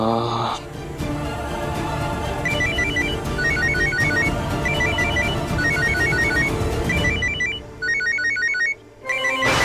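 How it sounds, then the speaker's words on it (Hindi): A phone rings repeatedly in a steady patterned trill over a busy music bed, bursts recurring through the clip before cutting off near the end. "एक काम करता हूँ, राधिका को फोन कर लेता हूँ।"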